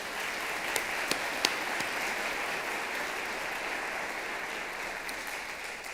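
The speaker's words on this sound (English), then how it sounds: "big round of applause." An audience claps at a county teacher awards ceremony honoring distinguished mentors. The applause is steady and sustained, heard from a distance across the hall, with a few sharper claps standing out near the start.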